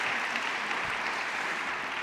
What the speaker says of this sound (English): You're allowed to clap.